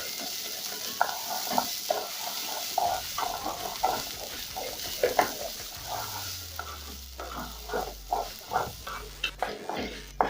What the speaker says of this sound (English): So I'm going to fry my rice for about a minute.